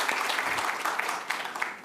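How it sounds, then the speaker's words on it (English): Conference audience gives a short round of applause after a research talk, a soft, steady patter of clapping that carries on briefly without speech. "Let's have a round of applause."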